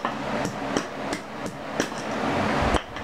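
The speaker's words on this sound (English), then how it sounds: "Why don't you just hammer that in?" Repeated sharp hammer strikes drive a nail into a wall during a bedroom renovation, ringing out at an uneven pace, about eight blows in three seconds, close by and loud.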